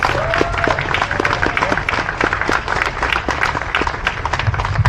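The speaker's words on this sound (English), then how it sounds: "Give him a big round of applause." Outdoor crowd applause for the town manager at a July 4 America 250 time capsule ceremony in Westerly, scattered hand claps over loud wind rumble and background noise, fairly near and steady throughout.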